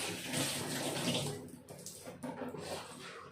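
Dishes washed under a running tap at home, a steady close rush of water with intermittent clattering and splashing as items pass through the stream, no talk.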